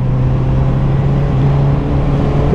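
Honda CBR 650R motorcycle riding down a mountain road, its engine holding a steady loud drone with a constant low tone, alongside wind rush, close and continuous with no talk.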